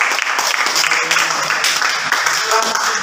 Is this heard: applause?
yes